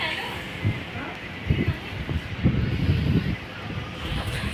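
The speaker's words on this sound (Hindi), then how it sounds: "कितनी मस्त हवा चली" Wind blowing outdoors in an open rural spot, a loud rushing buffet across the microphone with gusts swelling in the middle, while people talk and call out nearby.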